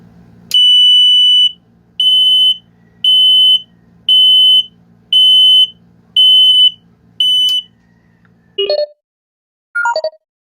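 A piercing electronic buzzer driven by a 555 timer IC sounds in seven evenly spaced pulses about a second each, then a few short lower chirps, loud with no talking.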